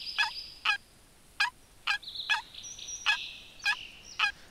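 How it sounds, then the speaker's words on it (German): Repeated sharp turkey gobbles and yelps from a turkey caller in a hunting video game, about eight short calls spaced across the clip, with a few sustained high call tones between them; fairly clear, no talking. "Wenn ich gerade mit dem Truthahn-Caller rufe."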